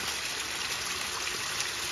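Water flowing down from the hilltop at Shivagange hill, a steady, dense rush with no breaks.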